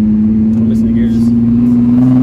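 A car accelerating hard in first and second gear with its wheels spinning, a steady loud engine drone holding one pitch close by, with voices talking over it.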